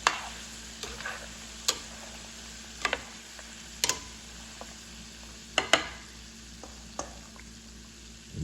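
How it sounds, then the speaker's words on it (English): Chicken wing mixture with cream being stirred in a pan, with sharp intermittent clicks and scrapes of the utensil about every second over a soft steady sizzle. "You mix it frequently."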